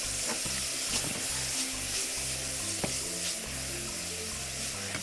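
Finely diced onion and pepper fry in butter, a steady close sizzle with rhythmic stirring scrapes and occasional light clicks, no voices.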